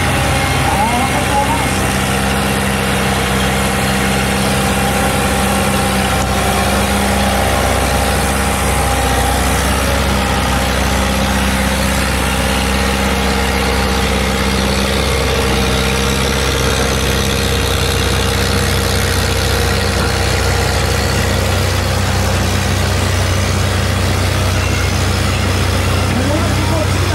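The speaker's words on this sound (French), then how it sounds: "Jean-Marc Soucy qui se prépare avec son tracteur." A steady, low antique tractor engine idles throughout at a tractor pull event in Saint-Pascal, a constant rumbling hum with faint voices now and then in the background.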